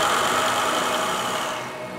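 A generator set runs during factory testing inside a sound-insulated room, giving a loud, steady mechanical drone with a buzzing hum that eases slightly toward the end; no voices are present.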